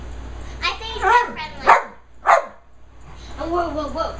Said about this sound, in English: He's got the funniest bark.